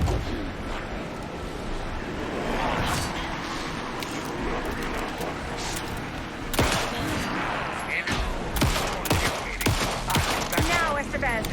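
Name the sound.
gunfire in the video game Alan Wake 2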